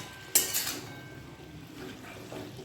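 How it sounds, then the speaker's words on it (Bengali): Utensil clattering and scraping against a cooking pot while stirring mixed vegetables for mung dal, with one sharp metallic clank near the start followed by softer stirring scrapes. "একটু নেড়ে নেবো ভালোভাবে"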